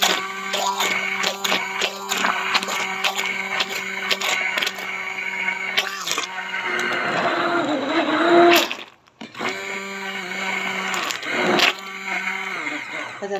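A motorized blender whirs and grinds tomatoes with a steady hum, broken by clattering bursts; the motor briefly cuts out, then restarts.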